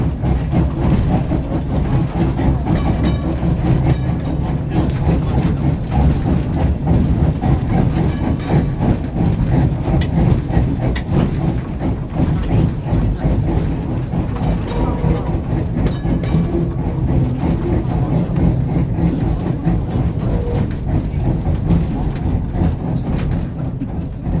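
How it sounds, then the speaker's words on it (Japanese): A Kyoto city tram at Meiji Mura rumbles along with steady low mechanical noise and rhythmic rail clatter, continuous and fairly loud throughout, with faint voices in the background, as it arrives at Shinagawa Lighthouse station. "エンジンを止めて一旦停止しますのでご注意ください"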